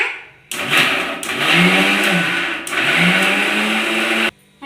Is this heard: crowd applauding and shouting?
no